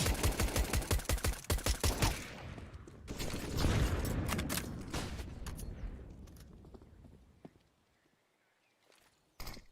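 A CS:GO rifle sprays in a fast, evenly spaced burst of about a dozen sharp shots, followed by a roaring stretch of mixed combat noise that fades, then a few late shots.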